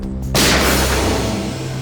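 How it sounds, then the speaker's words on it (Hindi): A single sharp gunshot cracks out, followed by a long echoing boom that fades slowly over a low steady hum. "गोली चलने की आवाज"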